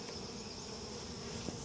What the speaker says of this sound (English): they're eating, they're in the hive, they're buzzing around